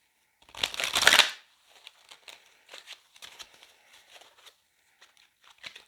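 Tarot cards being shuffled up close: one loud riffling burst at the start, followed by quieter, scattered flicks and slides of the deck.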